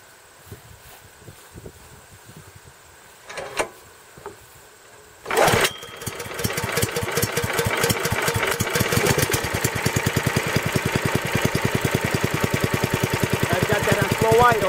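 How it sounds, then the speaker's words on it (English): A Billy Goat F602X walk-behind gas blower engine cranks briefly after a few quiet knocks, then catches and settles into a steady, loud, rapidly pulsing run that continues to the end. "we'll get ready to fire this thing up"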